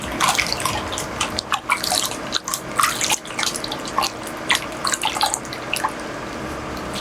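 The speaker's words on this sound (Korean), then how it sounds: "다 씻어졌다 생각하시면 미지근한 물에 깨끗하게 헹궈주면 끝이에요." Lukewarm tap water runs steadily while hands are rinsed at a sink during a skincare routine, with scattered drips and splashes over a continuous close stream and no talk.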